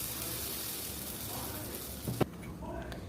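Spices sizzle in hot oil as they are tempered for coconut chutney, a steady close frying hiss with a brief clatter of a pan or spoon near the end.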